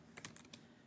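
A handful of quick, light clicks from a computer keyboard while a web address is typed in, close and quiet, lasting about a second.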